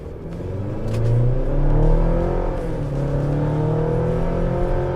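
A 2023 GMC Canyon AT4X pickup's 4-cylinder engine revs up and accelerates, a steady grumbling drone that swells early and then holds at a strong, even level with no talking.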